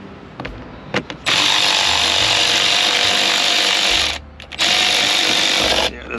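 A battery-powered tool with a dying battery, used on a 2014-2018 Chevrolet crew cab rear door, whirs loudly and steadily in two long runs separated by a short pause, with a few clicks before it starts.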